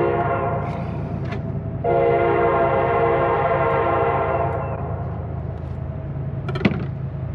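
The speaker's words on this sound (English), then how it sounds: "Another train." Train rumbling past outdoors during a wild turkey hunt, a loud sustained horn blast over the steady rail noise, fading toward the end.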